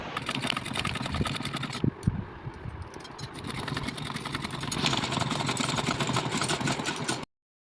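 A sewing machine stitches a blouse, its motor whirring and needle chattering in a continuous close run with a brief hitch near the start, then cutting off abruptly; no one talks.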